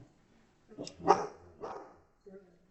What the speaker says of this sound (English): My dog is going to yelp at anyone who walks by.